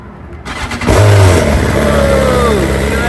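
A Ducati motorcycle engine cold-starts after sitting unused, the starter whirring briefly before the motor catches and settles into a loud, steady idle up close.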